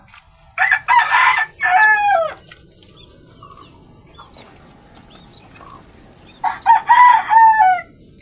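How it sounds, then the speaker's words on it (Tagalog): Chickens and young chicks in a coop give two loud bursts of crowing and clucking, with quieter cheeping and rustling between them. "diyan natin nilagay yung mga maliliit na sisiw."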